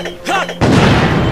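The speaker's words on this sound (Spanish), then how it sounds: "dale un buen cañonazo" A cannon fires in the video game Zelda Skyward Sword, a sudden heavy boom that rolls on as a loud, rumbling blast after a brief, brighter in-game tone.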